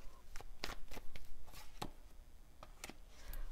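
Tarot cards drawn from a deck, soft quiet shuffling and papery slides with a few light taps in quick succession, close up, without talk.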